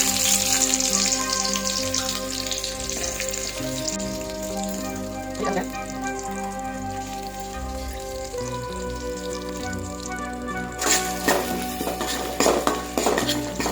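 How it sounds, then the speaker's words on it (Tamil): Small onions and garlic sauté in a pan with a soft sizzle, mixed with clinks and scrapes of a spoon against the metal and tonal background music throughout. "இப்போ சின்ன வெங்காயமும் பூண்டு ஆட் பண்ணிக்கலாம்"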